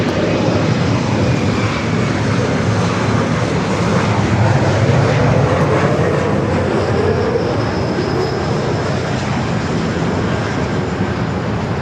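An Airbus A350 jet roars loud and steady while taking off from runway 24 right at LAX, a broad, continuous engine rumble that swells slightly midway and then stays constant for the whole stretch.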